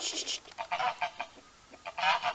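Hens in a garden cluck and honk loudly and nearby in a series of repeated, uneven calls, with a short pause partway through.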